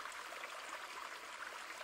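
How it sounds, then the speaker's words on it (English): Steady rushing and gurgling of running stream water from an iPhone background sounds feature, continuous and fairly even, with no other sounds. "We'll skip the rain and go over to the running stream."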